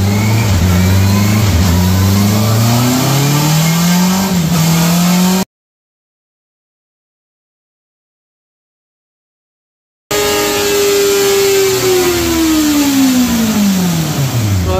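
A Honda CBR650R motorcycle engine revs hard on a dyno test run, rising loudly through the gears in a long pull, cutting to silence, then returning with another high rev that sweeps down as it winds off.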